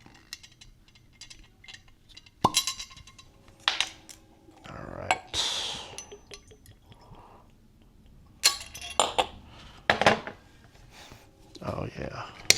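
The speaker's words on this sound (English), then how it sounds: "So this one's a fresh cork pop." Cork pulled from a fresh single barrel select bottle of Jamaican rum, with several sharp squeaky twists and a clear pop among close clicks and glassy handling noises, while a person talks between them.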